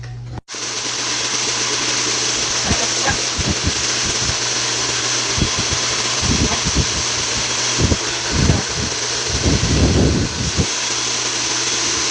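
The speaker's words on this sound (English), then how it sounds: "Let me go ahead and blow dry her hair" A hair dryer runs steadily while blow-drying a young girl's hair, a continuous loud whooshing drone with the airflow shifting as it moves over her head. No one speaks.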